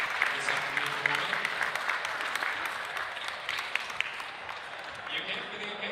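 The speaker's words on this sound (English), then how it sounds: "A round of applause" Audience applause at a national coffee championship finals, sustained dense clapping for several seconds, fairly close and steady, with faint voices mixed in.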